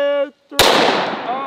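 A Coonan 1911 pistol chambered in .357 Magnum fires a single loud, sharp shot into ballistic gel, following a brief electronic beep, with a ringing decay afterward.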